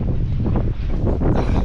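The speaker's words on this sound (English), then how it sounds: "This was the wind that I was trying to avoid." Strong wind gusts buffet the microphone at a marina, a loud, close rush of roaring noise that surges and eases over the short stretch.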